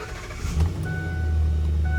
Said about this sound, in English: I'm going to start the truck up.